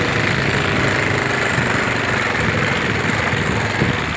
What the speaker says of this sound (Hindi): ट्रैक्टर से ये हल चलाया जा रहा है।